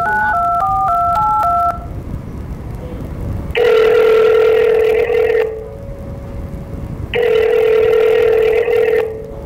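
A telephone keypad beeps through a quick run of dialing tones, then a loud ringback tone pulses twice with a pause between, clear and close with no talking over it.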